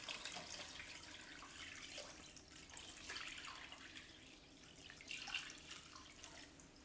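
Salt brine poured from a container over kippers in a bowl, a continuous close splashing and trickling pour that swells and eases over several seconds, with no talking.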